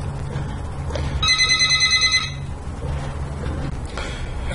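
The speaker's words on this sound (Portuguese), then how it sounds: "desculpem o telefone tocando" A telephone rings with a rapid, trilling electronic ring lasting about a second over steady low background hum, fairly close and clear, then stops.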